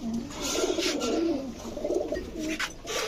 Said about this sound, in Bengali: লালদম একটা মাদি কবুতর